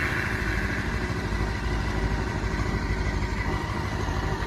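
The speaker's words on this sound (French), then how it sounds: "on fait tourner le moteur pour faire tourner la pompe." A Honda CB500 motorcycle engine (PC26/PC32) idles steadily during a coolant bleed, a close, even mechanical rumble that continues without talk.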